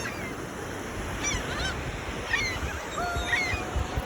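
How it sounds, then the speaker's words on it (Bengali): Seabirds calling along the Atlantic Ocean shore: several honking, goose-like cries come and go over a steady wash of surf and wind, moderately close. "অল্প স্বল্প কিছু পাখি আছে।"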